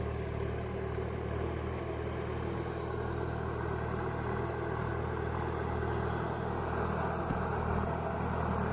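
A Kubota M6240 tractor wading through water, its engine a steady, loud mid-pitched drone with continuous churning rumble and no voices.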